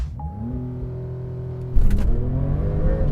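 A car pulls away hard from a standstill on cold tyres, its engine note rising steadily in pitch before a loud surge of roar and tyre noise.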